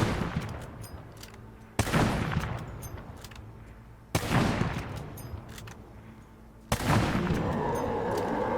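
Rapid bursts of .50 caliber rifle fire in the zombie survival game State of Decay 2, three loud sharp volleys spaced a couple of seconds apart, each decaying into rumbling echo, no voices.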